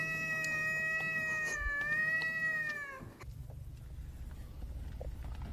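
A cat lets out a long, wavering, whiny meow close by, lasting about three seconds before cutting off, followed by a low rumbling engine-like hum in the background.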